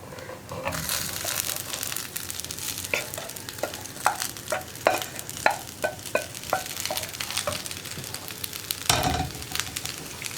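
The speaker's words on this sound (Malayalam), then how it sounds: "ഇനിയിപ്പോൾ നമുക്കിതിലേക്ക് ഉരുളക്കിഴങ്ങും കൂടി ചേർത്ത് മിക്സ് ചെയ്തിട്ട് ഒന്ന് അടച്ചു വെച്ച് കുക്ക് ചെയ്യാം." Potato and coconut for a potato thoran being stirred in a frying pan, a bright close sizzle broken by a rhythmic run of scraping stir strokes.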